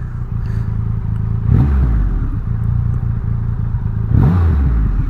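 Triumph Rocket motorcycle revved in neutral, a loud steady engine rumble swelling in two short revs, close by with no talk.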